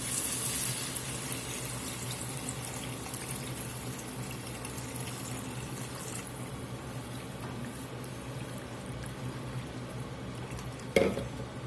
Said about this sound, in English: We're going to go in with a couple of cups of water.